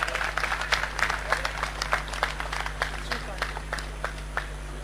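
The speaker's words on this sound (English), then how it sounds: "Give them a big round of applause." Audience claps for graduates at a university convocation ceremony, a steady spread of individual hand claps over a constant low electrical hum, with some speech mixed in.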